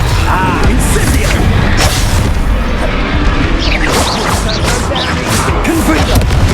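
Incendio fire spell cast in Hogwarts Legacy, a loud burst of crashing, booming whooshes and impacts filling the whole stretch of combat, with a voice calling out briefly.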